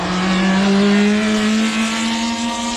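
A Ferrari Formula One racing car, driven by Gerhard Berger and wearing number 27 or 28, roars past at the Goodwood Festival of Speed, its high-pitched engine note held loud and steady for a few seconds with no talk.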